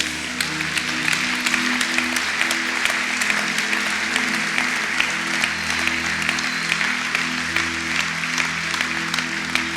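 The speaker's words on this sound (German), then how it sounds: "wieso klatscht man" Sustained applause from a church congregation, dense steady clapping filling the room at an even level throughout, with a low organ-like tone humming underneath.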